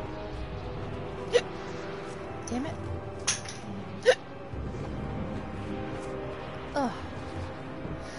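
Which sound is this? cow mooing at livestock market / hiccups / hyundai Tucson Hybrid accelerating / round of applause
hiccups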